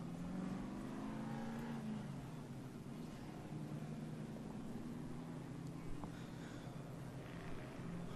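Modified race car at Tucson Speedway idling after a spin into the grass off turn 4, a low steady engine drone with faint revving, distant under track noise and an announcer's commentary.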